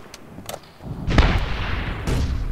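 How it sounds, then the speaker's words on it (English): A grenade goes off in the combat game Medal of Honor (2010), a loud rolling boom that swells about halfway through and stays thick and rumbling. It is preceded by a few faint cracks of gunfire. "That's a grenade. He just threw a grenade."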